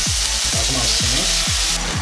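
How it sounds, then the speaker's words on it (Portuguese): Apples stirred and frying in a pan, a steady close sizzle broken by about five regular scraping strokes of the spoon, each roughly half a second apart. "Mexa bem as maçãs. Até que fique um pouco amolecida."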